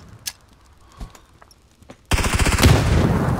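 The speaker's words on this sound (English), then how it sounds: "Someone's shooting at me." PUBG gunfire: a few faint, sparse distant shots, then a loud sustained burst of rapid automatic fire close by that lasts to the end.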